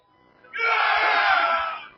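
Male crowd at the live eGames 2008 show lets out one loud, sustained roaring yell lasting over a second, rising sharply and fading out.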